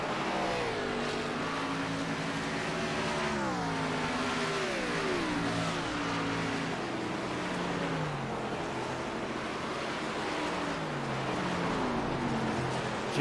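Dirt-track race trucks roar around the Eldora oval, several engines revving and shifting in overlapping rising and falling tones, loud and continuous throughout with no talk.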